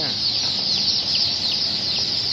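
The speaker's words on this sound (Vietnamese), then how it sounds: "Gà phượng nha" Many phoenix chickens cluck and chirp together in a dense, continuous chorus, with steady background noise and a voice faintly underneath.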